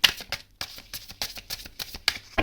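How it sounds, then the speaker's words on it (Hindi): Tarot cards being shuffled in a quick run of crisp riffling bursts and soft flaps, close and moderately loud, with no voices. "ओके एक शफल और करते हैं।"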